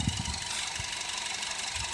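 A ten-year-old car's freshly serviced engine idles quietly after an oil change, a steady, even hum with a faint rhythmic knock and no talking.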